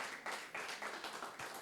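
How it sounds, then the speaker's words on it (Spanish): Church congregation applauding during a Sunday service, a dense patter of many hands clapping fairly faintly, continuous for a couple of seconds with slight swells. "Un fuerte aplauso para nuestro Señor"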